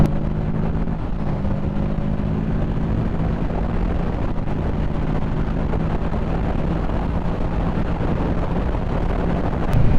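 A Kawasaki Ninja 650 motorcycle cruises on back roads in fourth gear at 45–50 mph, a steady engine drone blended with constant rushing wind noise throughout.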